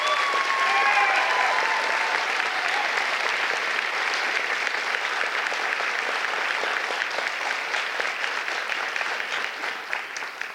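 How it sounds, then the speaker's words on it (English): Steady, even applause from an audience honouring student award recipients at a university achievement celebration, a dense wash of clapping that holds for about ten seconds before gently tapering. "Please give all of these awardees a round of applause."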